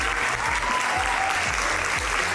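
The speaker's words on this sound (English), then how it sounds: "Please, a huge round of applause for Nicholas Hoult" An audience greets the actor Nicholas Hoult with a loud, sustained round of applause, thick clapping that fills the room evenly from start to finish.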